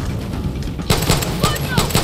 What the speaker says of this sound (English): mess all y'all up with this flaming pistol